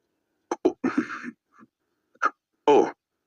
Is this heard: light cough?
yes